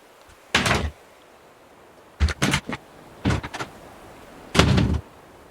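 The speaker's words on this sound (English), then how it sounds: "Probably shouldn't have slammed the door." A door is slammed hard several times in a room, four loud separate bangs spaced a second or two apart, close and sharp with brief rattling after each.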